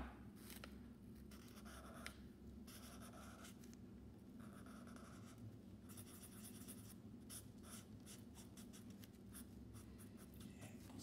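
Pen drawing an eye on paper, continuous scratchy strokes in repeated bursts with brief pauses, close and quiet, no talking.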